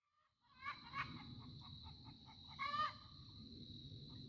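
Chickens clucking and squawking in a short rapid series, fairly faint and at a middle distance over soft background noise, with a louder burst toward the end; no voices.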